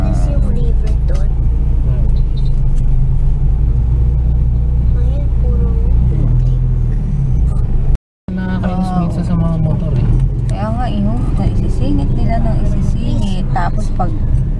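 Cars rumble steadily along a road by crowded riverbanks, a loud continuous traffic drone with vehicles passing close, while people talk over it throughout.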